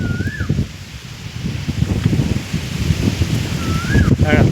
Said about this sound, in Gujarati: ફળ જાડું છે ડાયરો છે ને પવન બહુ છે.